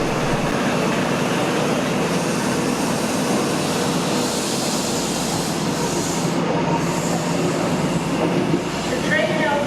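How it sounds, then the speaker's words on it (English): Midland Pullman train pulling away from a station platform, a steady broad rumble of rolling stock and wheels filling the scene with faint squeal near the end. "The Pullman departs almost at once at 10:24"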